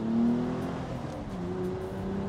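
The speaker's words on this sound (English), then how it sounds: "you can hear that sweet exhaust note" Mercedes SLK roadster driving with the top down on a warm spring day, its engine and exhaust giving a steady, close, moderately loud drone with a slight rise in pitch early on, no talking over it.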